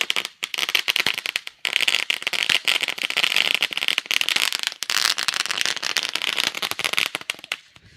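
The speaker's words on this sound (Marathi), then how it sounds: "फटाक्यांची आतिषबाजी आपण पाहतोय." Firecrackers burst in a dense, rapid barrage at a cricket tournament, loud crackling pops chaining together almost continuously for several seconds with only a brief gap, then thinning out at the end.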